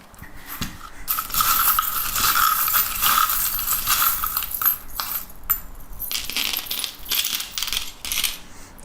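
Small metal charms tossed and scattered onto a surface for a divination reading, giving dense clattering, clinking and rattling at close range, alone with no voices.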